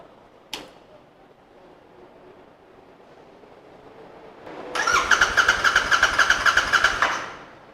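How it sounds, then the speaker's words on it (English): Royal Enfield Continental GT 650 motorcycle engine cranking without starting, a fuel pump that failed to prime: after a sharp click, a loud rapid starter whir with pulsing beats runs for about two seconds, then stops. "it would crank, but it would not start because the fuel pump didn't prime"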